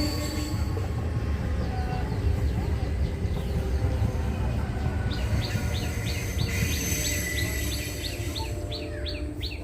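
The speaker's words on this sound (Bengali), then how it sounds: "ঠিক আছে ট্রেন যাচ্ছে দেখো দেখো" A train passing on a double-track railway line makes a continuous close rumble throughout. Bird chirps repeat in the second half, and faint talk may sit under the noise.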